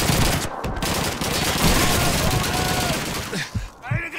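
Dense, loud automatic gunfire rattles continuously in the Call of Duty 2 battle at a railroad station, with overlapping bursts and shots under shouted voices.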